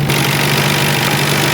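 Nissan R32 GTR engine running loud and close in a steady, unbroken drone during a flyby, with a constant rumble and no voices.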